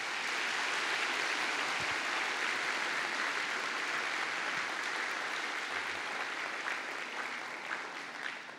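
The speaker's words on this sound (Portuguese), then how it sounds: "Vamos dar uma salva de palmas para eles?" A church audience gives a warm round of applause for a ministry team. The clapping is dense and sustained, a loud continuous roar that fades slightly near the end.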